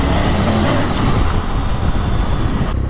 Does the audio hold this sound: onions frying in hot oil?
no